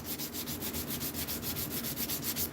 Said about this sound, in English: You sand like SpongeBob's life depends on it